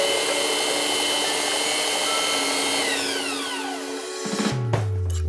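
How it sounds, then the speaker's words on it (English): Power sander running steadily on the edge of an inset cabinet door, a loud continuous whine with harmonic tones that slides downward before the motor winds down and stops near the end. "if you're not used to sanding on the edge of something"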